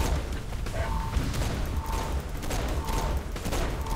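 Explosive power blasts and gunfire crackle through a chaotic co-op fight in the Saints Row 4 video game, a dense continuous barrage of bursts and booms at moderate level with no clear pauses.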